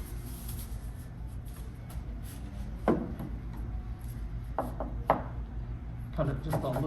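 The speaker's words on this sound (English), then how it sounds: "As we get ready to cut that in half," Knife slicing a roast beef and Swiss wrap in half on a cutting board, a few soft crunching cuts and thuds against a low background hum, quiet and close.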